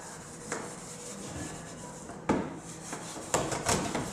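A clay bar rubs polyurethane spray foam overspray off a car's air intake vent, giving soft close scrubbing strokes with occasional bumps and knocks, no voices.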